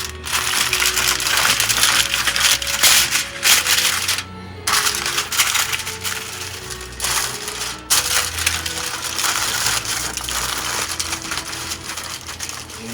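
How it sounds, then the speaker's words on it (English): Aluminium foil pulled and pressed over a baking dish, loud continuous crinkling and crushing with short pauses, close up, no voices heard. "the first thing we need to do is cover this in foil"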